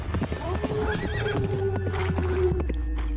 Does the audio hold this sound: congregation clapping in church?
no